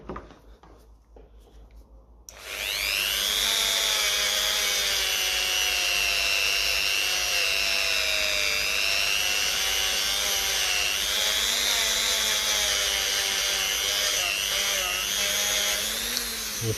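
A power tool starts up and grinds steadily against corroded metal on the governor area of a 1954 Ferguson 20 TEF diesel pump, a loud, close, high whine that wavers slightly in pitch as it cuts through the corrosion.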